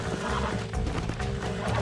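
A horse whinnies and snorts while being broken in Red Dead Redemption, with a dense, busy layer of hooves and game noise that continues throughout.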